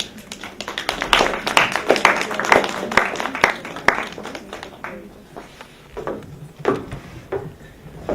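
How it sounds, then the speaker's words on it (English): Applause for contestants at an African Union expo: a modest group claps loudly and steadily at first, then thins to scattered individual claps and taps toward the end. "Give them a round of applause."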